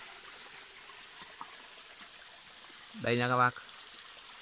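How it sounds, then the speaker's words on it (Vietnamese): A stream below a rocky outcrop gives a steady soft trickling wash throughout, with a short spoken phrase near the end. "Ở dưới này là một cái dòng suối."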